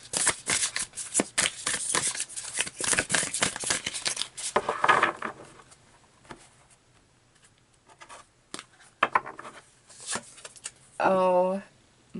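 Tarot cards are shuffled close up in quick, crisp riffling bursts that fade into softer slides and taps as one outcome card is drawn; a voice speaks near the end.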